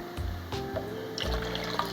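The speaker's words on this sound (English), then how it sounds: "take our lukewarm milk and pour it into a container, and we're also gonna mix in our water" Lukewarm milk and water poured into a container, a steady liquid splash and trickle that shifts pitch as it fills, close and moderately loud with no talking.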